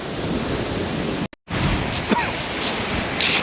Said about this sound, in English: I thought that wind had eased up half hour ago, but don't think it has.